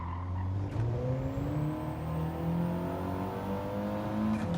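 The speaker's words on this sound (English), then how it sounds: "Listening to the tyres squeal, listening to the engine, listening to everything." A race car engine in the video game Gran Turismo 7 drones and shifts pitch as it accelerates through gears, with steady tyre noise throughout.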